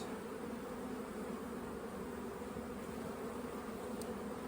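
Dense, steady buzzing of honey bees inside an open hive in a bee yard, a close, continuous hum with no breaks and no voices.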